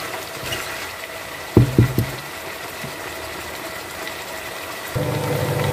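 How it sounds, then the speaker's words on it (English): Water is poured into a pan of frying okra and seafood to simmer, giving a few sharp splashing bursts followed by a steady hissing sizzle that grows louder toward the end, over a low kitchen hum. "And then I'm add water into this and allow it simmer a little bit"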